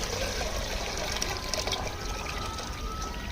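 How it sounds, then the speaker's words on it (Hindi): Water poured steadily into a cooking pot set on a ready stove, a continuous splashing trickle that runs close and fairly loud throughout, with a faint tone in the background. "तो ये जो पानी है ये सारा इसमें डाल देंगे"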